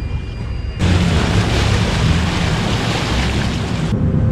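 A Kerala houseboat in Alappuzha starts to move. A loud, steady broadband rush of engine and water noise kicks in abruptly and holds before easing back near the end.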